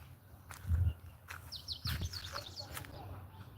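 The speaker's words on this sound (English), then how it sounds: "are more birds here, even I wonder why." Several wild birds chirp and tweet in brief high bursts outdoors at dawn in Gachie, Kenya, fairly faint against low rumbling, footsteps and movement.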